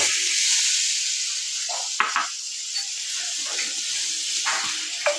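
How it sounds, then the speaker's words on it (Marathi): Butter sizzles in a pan over low heat for pav bhaji, a steady bright hiss with a few soft clinks and stirring scrapes scattered through, no voices. "आता आपल्याला पहिलं बटर टाकायचे."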